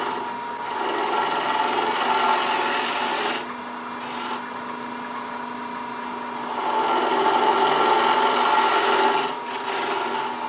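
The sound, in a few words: wood turning on a lathe with a bowl gouge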